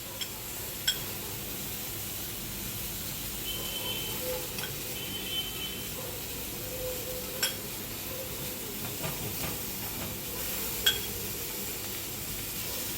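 Mackerel brushed with oil and tomato paste grills and sizzles, a steady soft hiss of frying with occasional light clinks of a utensil, no voices.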